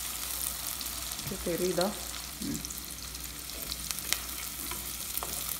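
Chopped garlic frying in a pan for fish curry, a low steady sizzle with scattered crackles and stirring scrapes, close and quiet under a brief spoken word.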